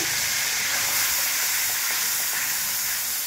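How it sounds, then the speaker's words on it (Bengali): Green peas fry with ginger in a wok for a tangy-spicy cauliflower dish, a loud, dense, unbroken sizzle heard close up with no voices. "আমি কড়াইশুঁটি দিয়ে দিচ্ছি, এর সঙ্গে ভাজা হয়ে যাবে।"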